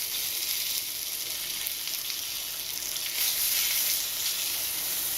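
A piece of pork belly browns on its edge in a pan, giving a steady, soft hissing sizzle that swells slightly partway through, heard alone and up close.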